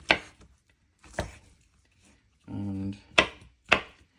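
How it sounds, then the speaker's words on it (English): Knife slicing washed chicken of the woods (Laetiporus sulphureus) mushrooms on a cutting board, four crisp separate cuts with a short low thud between, close and distinct, with a single spoken word. "What we're gonna do is just cut them in slices."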